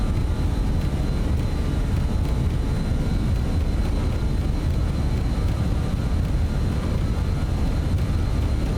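Airliner engines roar through a takeoff roll in Microsoft Flight Simulator 2024, a loud, steady low-heavy rumble with a faint high whine, continuous and unbroken throughout.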